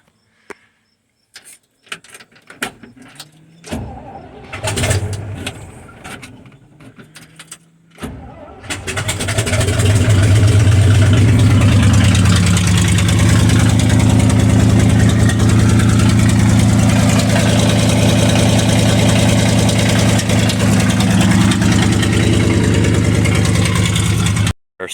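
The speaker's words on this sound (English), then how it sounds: "I'm gonna throw a piece of straight pipe on there and we're gonna start it up" A few clicks and a cranking engine lead to a loud start, then a Chevrolet C60 truck engine runs raw and rumbling through an open straight-pipe exhaust, close by.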